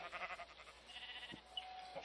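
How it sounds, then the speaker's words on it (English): Sheep bleat in the video game Minecraft, short wavering calls in a soft cluster near the start with a few quieter bleats following, moderately close and alone without talk. "There's a lot of sheep here."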